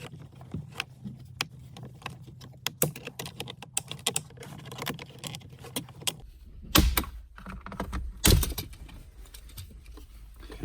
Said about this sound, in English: So I would go ahead and just lift these right up from the top and work down the trim